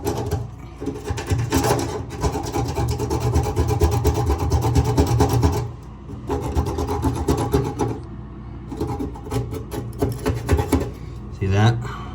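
Scraping and rasping as bathtub refinishing coating is dug out of a tub drain cavity, steady gritty strokes close up with short pauses.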